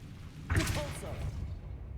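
A Repulso knock-back spell fires in the Hogwarts Legacy video game: a sudden whooshing blast with a thump, followed by a shimmering magical tail that fades over about a second against a low rumbling background.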